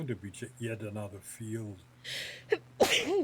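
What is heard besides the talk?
sneeze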